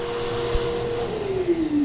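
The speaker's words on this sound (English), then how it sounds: "I want to unplug it. Let that vacuum cleaner go off." A shop vacuum cleaner winds down after being unplugged, its steady whine sliding gradually lower in pitch as the motor coasts to a stop, close and alone.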